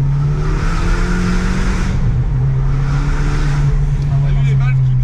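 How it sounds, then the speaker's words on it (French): A sports car engine revs hard and loud, its exhaust valves screaming as the note rises and falls, with a voice talking over it in French. "T'as vu les valves qui crient?"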